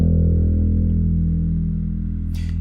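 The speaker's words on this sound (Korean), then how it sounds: "브릿지 쪽에서 뒷 픽업에 엄지를 놓고 피킹을 하게 되면" Bass guitar string plucked with the thumb near the bridge pickup, a single sustained low note ringing steadily and fading slightly, close and clear with no talking.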